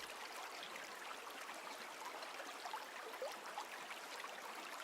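Flowing water from the video game Raging Loop, a steady, even rushing hiss of a stream with no pauses or voices.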